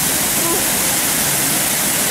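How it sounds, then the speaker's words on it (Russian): A city fountain in Tiraspol pours water in a constant, loud, broadband rush, close by and unbroken, like a small waterfall. "смотри, как тут течет вода"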